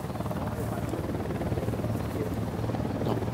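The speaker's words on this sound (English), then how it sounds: "No, shouldn't be bothered by the helicopter." A helicopter in the video game Ghost Recon Wildlands drones steadily with a low rotor thrum, held at a constant level under someone talking throughout.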